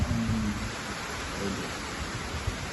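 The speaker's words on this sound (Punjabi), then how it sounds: "ਅੱਜ ਪਹਿਲਾ ਮੀਂਹ ਪੈਣਾ ਹੈ ਹੈ ਪਹਿਲਾ ਮੀਂਹ ਆ" First rain of the season falling on a Punjab farm, a steady broadband hiss of rainfall close by with low rumbling underneath, continuous and even across the moment.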